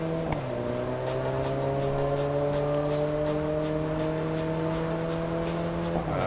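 A race car in Test Drive Unlimited Solar Crown holds a steady high engine drone with tire noise, shifting pitch once near the start and again at the end, loud and continuous with no talking.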